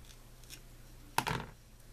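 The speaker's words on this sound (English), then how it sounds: "I'm going to go ahead and use my 3M here and cut it down to size" Scissors cutting a piece of 3M foam tape down to size for a handmade card: one quick, crisp snip and short rasping slice, close and clear against quiet room tone.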